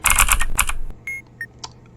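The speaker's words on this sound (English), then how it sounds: "we're going to use our keyboard to type out our word here" Close, crisp keystrokes on a computer keyboard come in a quick burst of several taps, then a few isolated clicks, with no talking.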